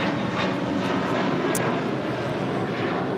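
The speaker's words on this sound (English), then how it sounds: "Taking off to Boston's flight 888 on this A321 JetBlue." JetBlue Airbus A321 on Boston flight 888 taking off at LAX, a steady loud roar of jet engines at full thrust filling the whole stretch, with no talk over it.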